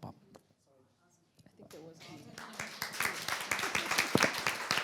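Audience applause for panelists at a diversity and entrepreneurship summit, rising from a quiet start into a dense run of clapping over the last three seconds, with some talk before it.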